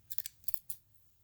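Scissors snip through crochet yarn in a quick run of about five short, crisp cuts close by, followed by quiet.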